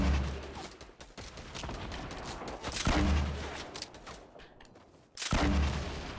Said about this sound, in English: This is when I get fucking shot at by a bunch of other people.